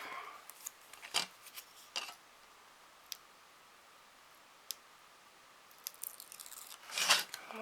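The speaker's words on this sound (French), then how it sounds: "Avec mes ciseaux que je n'ai toujours pas" Scissors snip through 3D adhesive foam for card making, a few quiet, sparse clicks and crisp cuts at close range, ending with a brief burst of snipping.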